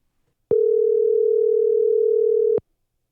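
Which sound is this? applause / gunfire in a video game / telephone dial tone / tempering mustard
telephone dial tone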